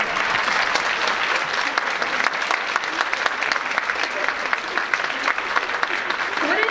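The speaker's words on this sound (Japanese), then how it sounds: "拍手でお迎えください" An audience at a high school choir's year-end singing contest claps steadily and continuously to welcome special guests, a dense, even wash of applause filling the whole stretch.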